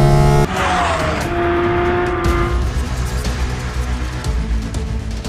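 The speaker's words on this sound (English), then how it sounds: "Porsche has also added an air intake system from the GT3 to make the exhaust sound even more thrilling." A Porsche 718 GT4 RS with a GT3-derived air intake system sounds off while driving: loud engine and exhaust note with a sharp opening burst, then a steady, rising and falling drone and some tire noise, with no talking.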